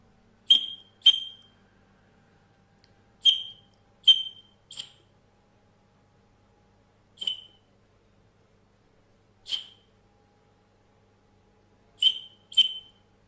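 A sisri, a folk wind instrument made of jamun wood, imitates a partridge call with nine sharp, high whistled chirps, some in quick pairs, spaced irregularly over near silence.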